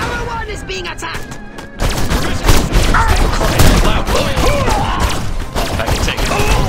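Sustained volleys of gunfire pound a defensive tower in Destroy All Humans, loud and dense after a quieter opening, with booming thuds and mechanical clatter mixed through the barrage.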